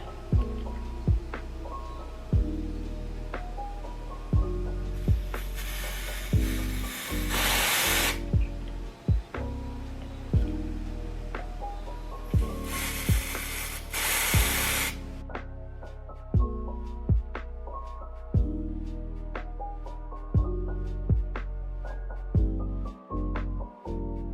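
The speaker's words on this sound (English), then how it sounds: "I don't know which way I'm spraying." Bursts of loud spray hiss while spraying a lace frontal wig, mixed in among the repeated rhythmic pulses of a machine running steadily nearby.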